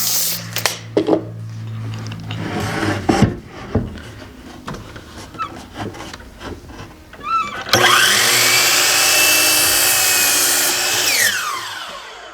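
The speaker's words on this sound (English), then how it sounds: "we're going to cut down our 2x4 to" A power saw cuts through a wooden 2x4 board, starting with scattered knocks and handling noises before a loud, sustained whining cut takes over for several seconds and then winds down.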